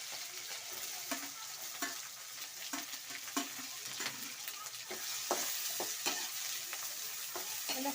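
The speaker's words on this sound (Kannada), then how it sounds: "ಹಾಕಿ ಒಂದ್ಸಲ ಫ್ರೈ ಮಾಡ್ಕೊಳ್ಳಿ ಎಣ್ಣೆಯಲ್ಲಿ ಕರಿಬೇವು ಮೆಣಸಿನ್ಕಾಯಿ ಈರುಳ್ಳಿ" Curry leaves, green chillies and onion fry in hot oil with a steady close sizzle, broken by regular scraping stirs of a spatula through the pan, with no voices.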